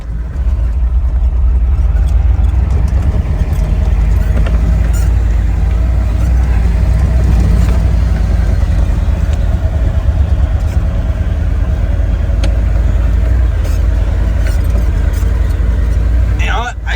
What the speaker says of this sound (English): I mean, just crawls forward in first gear,